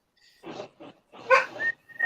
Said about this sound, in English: Dogs go nuts all the time.